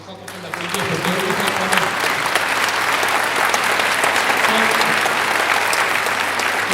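Audience applauding at a JALT choir show in April 2016, steady sustained clapping from a large crowd that swells slightly and holds loud throughout, with faint voices mixed in.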